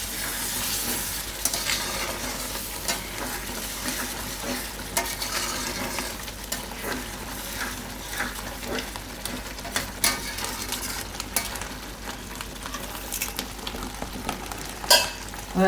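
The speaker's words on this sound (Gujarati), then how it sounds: "હવે આમાં કિચન કિંગ મસાલો નાખી દે હું અને મિક્સ કરી લે હું બધું." Kitchen king masala is stirred into sizzling matar paneer in a pan, giving a steady close-up frying hiss with scraping stirring strokes throughout.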